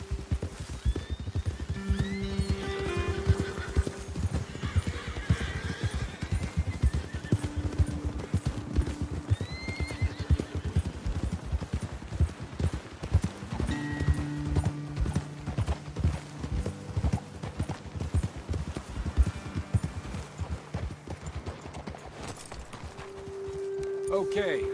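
Horses clip-clopping along a trail in Red Dead Redemption 2, hooves thudding in a continuous uneven gait with occasional whinnies and snorts, while characters talk over the ride and ambient outdoor game sound fills the background.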